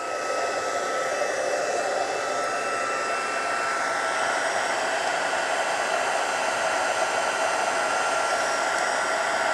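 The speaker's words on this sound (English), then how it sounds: "I'm putting the heat tool back on again. Letting it heat up." A craft heat tool runs steadily and fairly close for the whole stretch, a constant airy blowing whir with a faint high whine and no pauses or talk.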